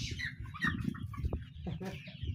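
Chickens cluck and murmur continuously on a crowded poultry farm holding around two thousand birds, a busy overlapping flock chatter close by with no talk over it.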